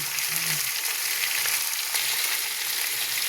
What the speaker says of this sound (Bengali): এবার আমি সবজিটা আস্তে আস্তে ভাজবো